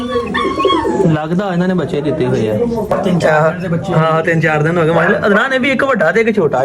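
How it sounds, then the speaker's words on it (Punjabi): A pigeon coos softly beneath near-constant close conversation in Punjabi between people standing by a nesting pair. "ਨੀਲੀ ਜੀ ਕਬੂਤਰੀ ਹੋਣੀ ਇੱਥੇ"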